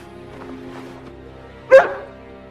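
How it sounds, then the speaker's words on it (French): A single sharp dog bark rings out after a quiet stretch of faint background noise, loud and close. "L'aboiement, il est arrivé 3 secondes après"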